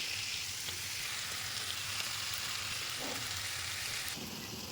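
Taro stolons going into a pan of spice paste and dried fish frying together, giving a steady, close sizzle with soft stirring scrapes and no talking.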